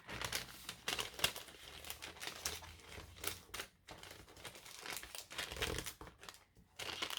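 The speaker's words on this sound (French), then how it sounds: "Je viens tout de suite les glisser dans le pochon." Handmade bookmarks with little pompoms being slipped into a crinkly pouch, soft irregular rustling and crackling close by, continuing in uneven bursts throughout.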